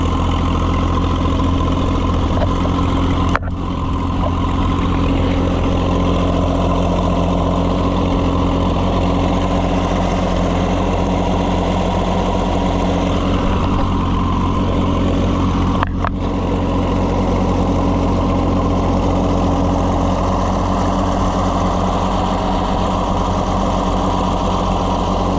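An Oliver tractor, either a 550 diesel or a 77 gas model, runs steadily after starting. Its loud, close engine drones with a constant low rumble, broken by two brief clicks.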